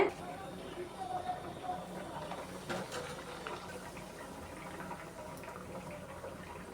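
Luchi, puffed Bengali fried bread, frying in hot oil gives a steady, close, bubbling sizzle that runs the whole time, with a brief louder surge near the middle.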